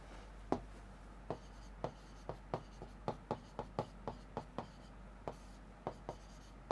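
Chalk or marker taps and strokes on a board during a Class 12 maths lesson on linear programming, a quiet run of about twenty sharp, separate ticks in an irregular rhythm, heard alone.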